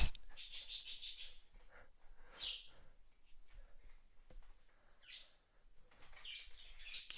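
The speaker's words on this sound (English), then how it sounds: "just listen to my birds just go crazy at their cage" Pet birds in a cage chirp and tweet excitedly in quick bursts of bright, high calls, fairly close, with quieter gaps between the flurries.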